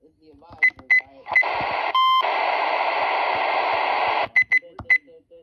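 A Radio Shack 12-258 weather radio sounds a run of short, sharp alert beeps, then a sustained steady tone lasting a couple of seconds, then more quick beeps, with people talking faintly around it.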